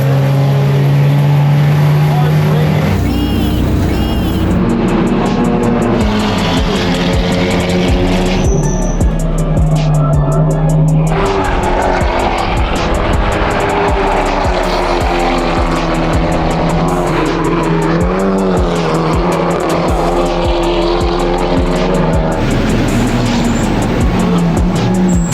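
A touring car on a TC America race formation lap, its engine droning loud and close with shifting revs and gear changes throughout, a voice talking over it.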